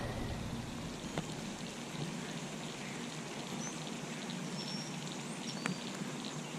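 Steady heavy rain falls during bass fishing, a dense, even hiss of drops pattering on surfaces, faint and continuous with no talking.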